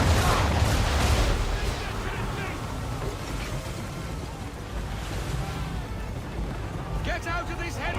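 Naval cannon fire from the Assassin's Creed 3 video game booms heavily at the start during a sea battle, followed by rolling waves and ship noise, with shouting voices throughout.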